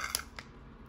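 A Pokémon Scarlet & Violet trading card pack being opened: two short, crisp foil tearing or snipping bursts near the mic, followed by a quiet tail.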